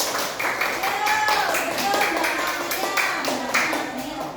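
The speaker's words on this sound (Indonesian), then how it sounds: "Oke, tepuk tangan" Children in a classroom clap their hands together in a steady, lively burst that runs throughout, with a few voices calling over the clapping.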